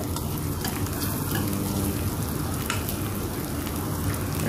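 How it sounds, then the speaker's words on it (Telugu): Onions deep-frying in plenty of hot oil give a dense, steady crackling sizzle, close and continuous, with no pauses. "మీరు చూడవచ్చు ఇక్కడ ఆనియన్స్ కూడా ఆల్మోస్ట్ డీప్ ఫ్రై అయ్యాయి"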